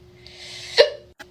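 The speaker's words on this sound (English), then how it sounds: "I just got the hiccups." A single sharp hiccup from a person, close and fairly loud, followed by a brief fainter catch of breath a moment later.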